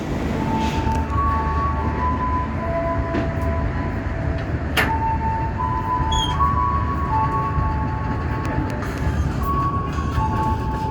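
Inside a Probowangi economy train running from Surabaya, a loud, steady rumble of rolling wheels fills the carriage, with a few faint tonal whines and one sharp click along the way.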